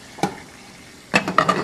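Chicken sizzles in a frying pan with a soft, steady crackle. Two louder bursts of stirring or turning clatter break in, one brief and early, the other fuller and near the end.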